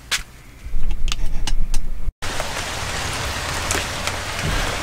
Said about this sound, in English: It's kind of raining out